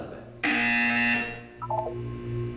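A sharp electronic buzzer in Portal 2 blares for about a second, then a short descending run of synthetic chime notes plays over a low background drone.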